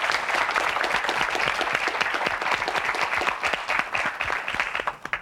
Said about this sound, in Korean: 수고해 주신 김용우 씨에게 다시 한번 박수 부탁드립니다